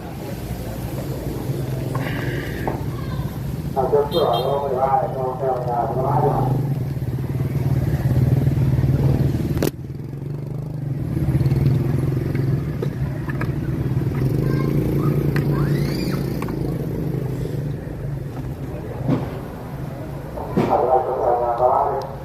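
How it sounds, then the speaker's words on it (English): A motorbike rides through Hanoi city streets at night, its engine droning steadily beneath a voice, with bursts of passing traffic and clatter around it. "Let's grab my motorbike."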